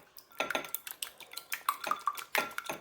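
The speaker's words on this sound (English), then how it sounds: "then I'm going to whisk my egg here" An egg being whisked in a bowl for cinnamon roll dough, a quick run of light metallic clinks and taps that are close and fairly soft, with no voices.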